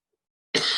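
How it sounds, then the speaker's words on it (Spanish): A single short, close cough bursts out abruptly after a moment of silence during a lecture. "disculpen, estoy tosiendo."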